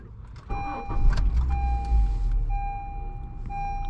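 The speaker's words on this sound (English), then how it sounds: "let's start off with turning the car on" Key-turn ignition on a 2012 Honda Civic EX: a click, then the engine cranks and catches at about half a second and settles into a steady idle, with dashboard chime tones ringing over it.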